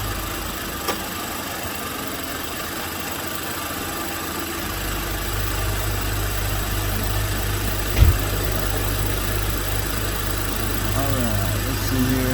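BMW F10 535i engine cranking to life a few seconds in and then settling into a steady, loud idle with a low even drone and a brief knock partway through.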